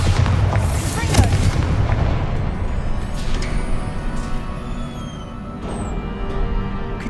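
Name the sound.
Bombarda and Confringo spell explosions in the video game Hogwarts Legacy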